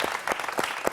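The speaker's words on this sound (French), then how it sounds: "Je vous applaudis tous les deux parce que ça a été un super beau match." Studio audience on a French television quiz show clapping for two contestants, a brief burst of a few distinct claps.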